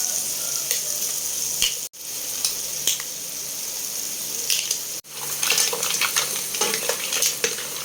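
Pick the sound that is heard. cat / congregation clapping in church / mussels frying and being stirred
mussels frying and being stirred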